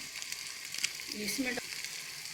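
Mixed vegetable masala tipped into fenugreek leaves already sizzling in a pan, giving a steady close hiss of frying with a few light scraping stirs and a soft thump of powder landing.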